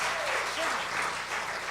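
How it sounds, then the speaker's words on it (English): A live audience at a western music show applauds steadily, a dense wash of clapping that stays loud and even throughout, with a faint voice speaking over it. "A great big round of applause."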